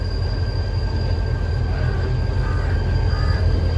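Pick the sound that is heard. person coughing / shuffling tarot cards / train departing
train departing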